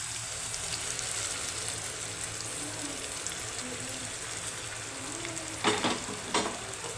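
Ground masala paste for a ridge gourd gravy sizzles in a pan, a steady hissing fry throughout, with a couple of short scraping clinks near the end.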